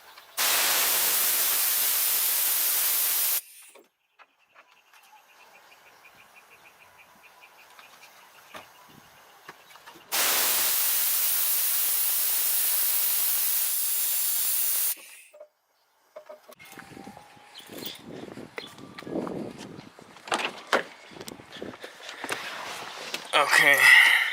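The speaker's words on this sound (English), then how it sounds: "I'm going to bleed it at the hydraulic vacuum bleeder right here" A hydraulic vacuum bleeder bleeds the clutch fluid on a Subaru BRZ with a clutch fork problem. It gives two loud, even bursts of hissing air, each several seconds long, separated by quieter clicks and handling noises.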